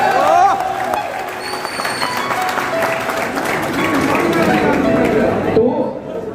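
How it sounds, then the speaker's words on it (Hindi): A crowd at a motorcycle riders' meet-up in Asansol breaks into loud, steady applause for several seconds, with voices chattering underneath. "जोरदार तालियां हो जाए यार"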